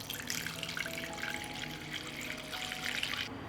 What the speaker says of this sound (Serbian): I nalit ćemo vodu do visine poklopca.